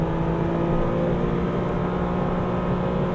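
A Porsche Cayman R accelerates on a race track, its engine a constant, even whir with no voices over it.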